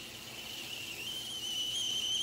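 Keto corn dogs frying give off a thin, steady high-pitched whistle that rises gradually over a bed of sizzling noise, growing slightly louder toward the end.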